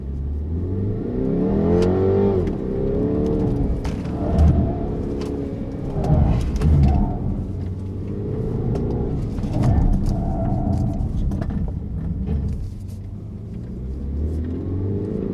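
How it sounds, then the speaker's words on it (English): A Mini Countryman S works through a slalom course of cones, its engine rising and falling in repeated revving surges as it accelerates and brakes, with pigeons cooing faintly in the background. "It's not easy to drive Countryman through slalom"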